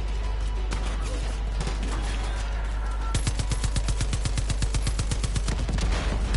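Mounted gun turret machine gun in the Far Cry 5 video game fires a rapid, steady stream of loud shots over a continuous low rumble, the burst kicking in midway and running to the end.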